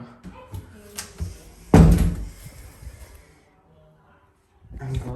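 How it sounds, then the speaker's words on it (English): A door is pushed shut in a room where a washing machine is running, giving one loud thud mid-clip, with quieter knocks and handling sounds before and after. "Sorry guys, I'm just shutting this door."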